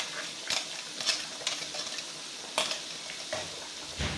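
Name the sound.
stirring and frying spice paste in pan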